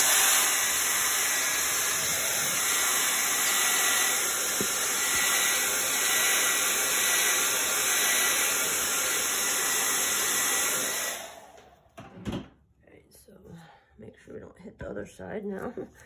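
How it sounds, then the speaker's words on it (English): A blow dryer drying a freshly chalk-stenciled piece for DIY bathroom decor roars loudly and steadily for about eleven seconds, then cuts off, leaving quiet handling noises and light clatter. "So we just use the blow dryer."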